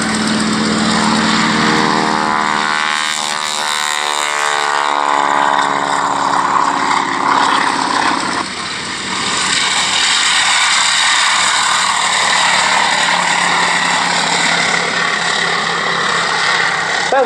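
A propeller aircraft flies past at the Shuttleworth Fly Navy airshow, its engine droning loud and continuous with a shifting pitch as it passes, then steady without anyone talking.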